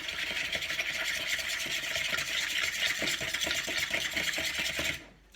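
A boilie egg mix with krill liquid is stirred briskly in a bowl, giving a steady wet, scraping swish with small clinks of the utensil on the rim, close and continuous before stopping abruptly.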